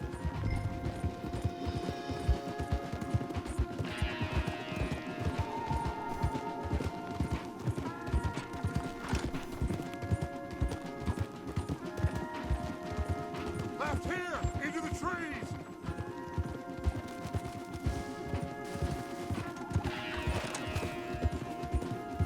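Rapid, rhythmic hoofbeats of horses galloping steadily in the video game Red Dead Redemption 2, with occasional whinnies and a brief voice speaking over the pounding.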